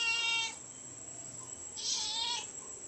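A pet cat meows twice, a longer cry at the start and a shorter one near the end, close and clear in a quiet room with faint background hum between calls.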